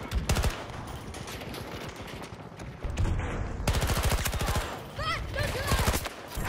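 Sustained automatic gunfire in the shooter Battlefield 2042, loud rapid bursts and rattling volleys that come and go across the moment, with game effects mixed in.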